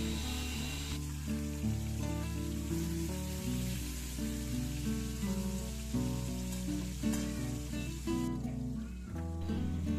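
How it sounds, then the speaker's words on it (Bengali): Hilsa fish sizzles steadily in hot mustard oil in a pan, a constant crackling fry that sits quietly beneath prominent background music with no talk. "এরপর খুব ভালোভাবে কিন্তু মাছটা আমি ভেজে নেব, একটু লালচে লালচে করে"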